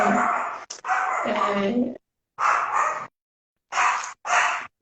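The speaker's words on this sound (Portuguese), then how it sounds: "a cachorra está latindo, desculpa." A female dog barks in loud, close bursts: a long run of barks, then two short pairs separated by silences, with no talk over them.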